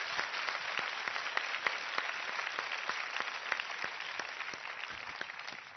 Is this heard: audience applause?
yes